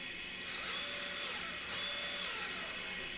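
Motor of an RC drift car with a Furitek Slidetech Pro ESC, revved with turbo off and no rev limiter, producing a steady high-pitched electric whine that surges twice, close and fairly loud, with no talking.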